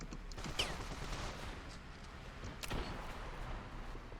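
Scattered incoming gunfire in Ravenfield, a few sharp distant cracks over a steady low battle rumble with no talking.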